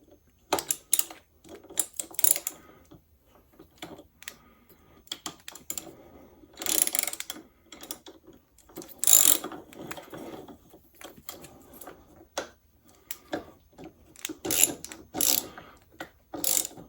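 A ratchet wrench clicks in repeated bursts while tightening a bolt on a bracket for hazard-light installation, close and loud with short pauses between runs of rapid pawl clicks.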